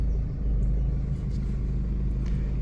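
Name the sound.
BMW N47 diesel engine revving, throttle pulling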